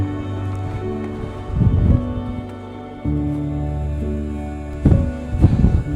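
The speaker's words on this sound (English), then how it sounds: "I'm doing my best to shield the microphone from the wind. It's really blustery up here" Strong gusts of wind buffeting a microphone on a blustery hilltop outdoors, with loud low rumbling surges that rise and fall throughout and sharper bursts near the end.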